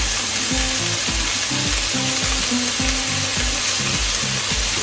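Sliced onions fry in a pan for a Kerala egg roast with salt added, giving a loud, steady sizzle behind a humming machine drone and rhythmic scraping as they are stirred; no one speaks.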